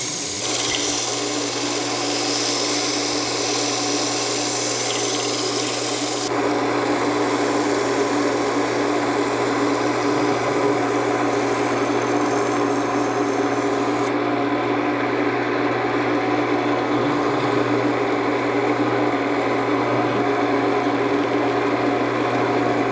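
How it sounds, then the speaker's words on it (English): A wood lathe hums steadily while sandpaper rubs against a small spinning box elder burl dish, a constant loud whirring rasp with a low motor drone and a shift in texture partway through. "now we're ready to start sanding this"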